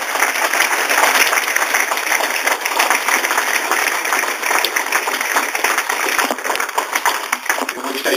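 A sponsors' evening audience applauds Paolo Di Canio and the Swindon Town players, a dense, sustained roll of many clapping hands that stays loud and even throughout.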